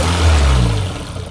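An SR20-powered Infiniti G20 idles very low at about 500 RPM, a deep, rough, uneven rumble heard up close and continuous for the short moment.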